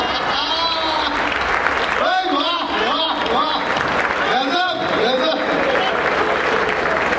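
An audience claps steadily and loudly throughout, a dense sustained applause with voices faintly mixed in.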